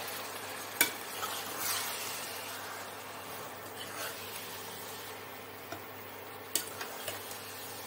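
Ginger garlic paste fries in a pan with a faint, even sizzle, punctuated by occasional sharp ticks and clicks from stirring, and no one speaking.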